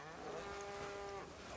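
A single drawn-out cow moo in the video game Crimson Desert, a brief tonal low call over a quiet background.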